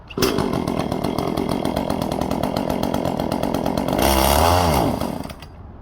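An Echo CS400 gas chainsaw cuts through wood, its engine roaring loud and steady near the mic before the pitch wavers and sags as it bogs down near the end, then cuts out.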